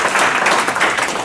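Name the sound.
audience applause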